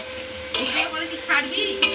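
Mutton (goat meat) being stirred in a pot as it fries, with a spoon scraping and clattering against the metal over a steady background sizzle, in short bursts close by.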